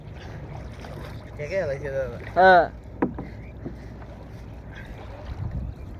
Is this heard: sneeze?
no